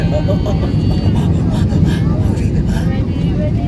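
An EasyJet Airbus A320 lands at Paris Charles de Gaulle, its steady loud cabin roar of engines and airflow holding constant throughout, with voices faintly present underneath.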